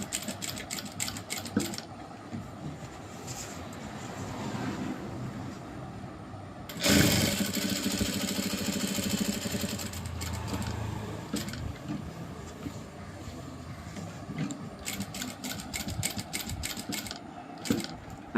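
A sewing machine stitches a uniform coat pocket in short rapid bursts of clattering needle strokes, with a longer, louder run in the middle and quieter handling noise between the bursts.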